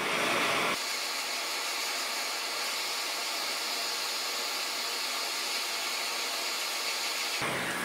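Hot air rework gun blowing heat onto an Xbox One S console board, a steady close broadband hiss that starts abruptly, holds evenly for several seconds and cuts off at the end, with no talking.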